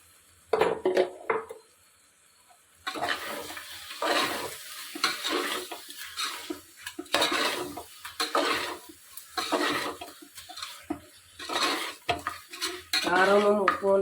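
A spoon stirs mutton in a metal pot for biryani, scraping and clattering in irregular strokes over a soft sizzle of frying, close and fairly loud, with brief pauses between bursts of stirring.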